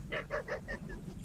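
Free-ranging chickens that roost in trees give a run of five rhythmic, honking squawks at moderate distance, followed by a sharp knock.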